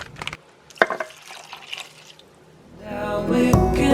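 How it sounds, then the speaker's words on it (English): Chicken broth and a cup of water poured into a soup pot for Italian sausage and chicken soup, a few drips and splashes at first, then a steady, close, louder pouring stream in the last second. "I'm going to add one more pack of the chicken broth along with another cup of water."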